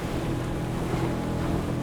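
A 6.5 metre Yellowfin boat hull slices through a following sea, a steady rush of water and spray with wind noise on the microphone, continuous and fairly close.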